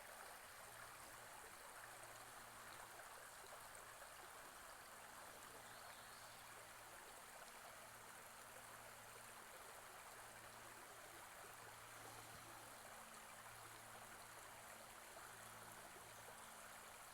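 A river flows across a trail ford where the bridge was washed out, giving a faint, steady, distant rush of moving water with a soft low rumble and no voices.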